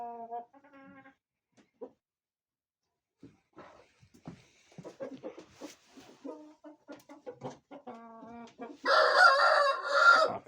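Chickens cluck and murmur softly nearby in scattered bursts, then a rooster lets out a loud crow near the end.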